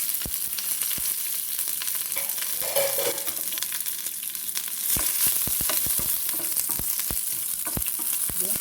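Dried red chillies and curry leaves sizzle in a pan for a Kerala pineapple pachadi, a steady close crackle broken by sharp pops and stirring clicks, with no talk.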